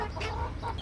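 A hen on a rooftop farm gives a few short soft clucks, faint and close, with low background rumble and no talking.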